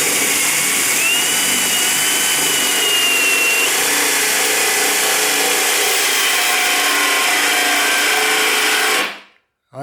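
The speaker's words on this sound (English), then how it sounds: "So we'll drill our new hole right here and see how this one here comes up." A power drill bores a fresh hole in wood, run slowly without pressure, giving a loud continuous whine with a faint rising pitch that holds steady for about nine seconds before cutting off abruptly.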